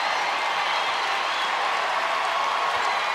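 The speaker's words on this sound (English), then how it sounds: "Fans applauding the effort, many on their feet here at Humphrey Coliseum." Basketball fans at Humphrey Coliseum applaud during a women's college game, with dense, steady clapping from a large indoor crowd at an even level throughout.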